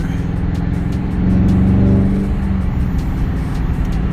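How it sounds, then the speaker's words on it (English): A 2021 Dodge Charger R/T engine drones loudly from inside the vehicle, in manual mode with windows slightly open, swelling briefly in a rev before settling back to a steady rumble. "My car is really loud today, right?"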